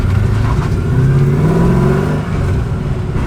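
A car being driven down the road, its engine droning steadily with road and cabin rumble, loud and close throughout.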